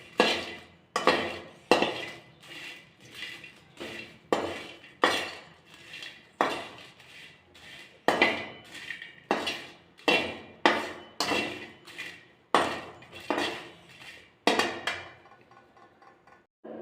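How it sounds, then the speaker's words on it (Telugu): Red chillies dry roasting in a pan, stirred with a steady rhythm of scraping, clinking strokes against the metal, roughly one per second, close and fairly loud, with no talking. "మిరపకాయలను ఇలా లైట్గా వేపుకోవాలి."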